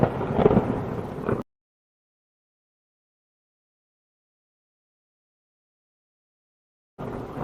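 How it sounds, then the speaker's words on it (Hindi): A short burst of thunder rumbles during a stormy night, lasting about a second before dropping into silence, with a faint return of the rumble at the very end. "आसमान में गड़गड़ाहट गूंज रही थी।"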